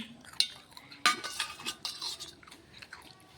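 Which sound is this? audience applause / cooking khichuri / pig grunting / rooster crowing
cooking khichuri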